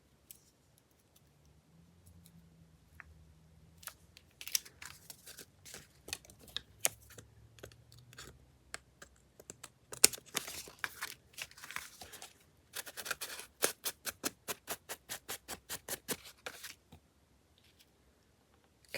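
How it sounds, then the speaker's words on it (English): Scissors trimming paper pieces at a crafting table, a quiet run of irregular snips and crisp clicks that quickens into a rapid rhythmic series of cuts near the end, close and soft, with light handling rustle between. "I'm just going to trim them since I already trimmed all those other ones."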